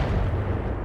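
Turret fire in Battletech, a continuous heavy low rumbling barrage of booming blasts filling the whole short moment, loud and dense with no gaps.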